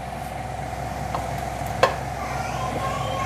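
Onions browning in a pan for a cabbage and chicken salan, a constant close sizzle with one sharp clack of a spoon against the pan partway through.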